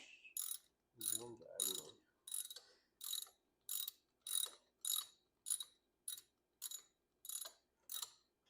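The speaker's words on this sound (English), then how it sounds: "We're just going to go ahead and tighten these up with the socket wrench." A socket wrench ratchets bolts on a Yamaha 9.9 HP four-stroke outboard motor: a sharp, close run of about a dozen evenly spaced clicking bursts, with a brief metallic rattle near the start.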